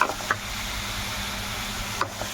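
Suvarotti (goat spleen) stirred in a cooking pan, with soft scraping and a few light clinks of the spoon over a low steady sizzle.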